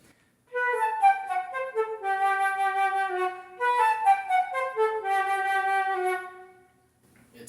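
A breathy, nasal flute tone from restricted lips plays a short wandering melody of sustained notes, pausing briefly midway, then fading out.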